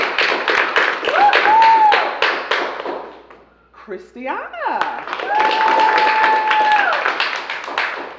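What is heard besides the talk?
audience applause for poets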